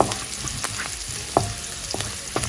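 Chopped green chillies fry in hot oil in a pan with ginger and garlic, a close, steady sizzle broken by a few sharp crackles and light stirring scrapes.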